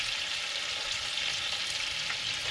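Fries frying in hot oil in an RV kitchen, a steady, dense sizzling hiss with fine crackle that holds evenly for the whole stretch, close by with no voices.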